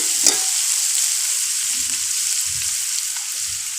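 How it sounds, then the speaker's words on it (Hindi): Spice masala frying in a pan while vegetable rice is being prepared: a steady, loud sizzling hiss runs throughout, with a few soft stirring knocks underneath. "देखिए मसाला भून गया।"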